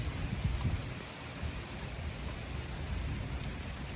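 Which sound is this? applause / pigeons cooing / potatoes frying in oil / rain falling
rain falling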